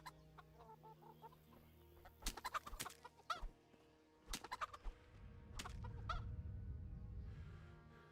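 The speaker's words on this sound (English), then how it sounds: "let's first get some chickens." Chickens in the video game Kingdom Come: Deliverance give off scattered clucks and short bursty calls in a quiet scene, with a low rumbling ambience swelling toward the end.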